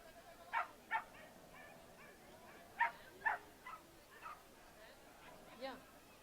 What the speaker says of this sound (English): This is a border collie.